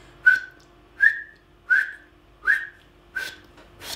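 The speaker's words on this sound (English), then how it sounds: "as you put the call up to your lips, try to whistle the word hot." Six short whistled notes blown through a hunting call, each a brief rising-then-steady tone, evenly spaced about three-quarters of a second apart, close and clear against a quiet background with no talking.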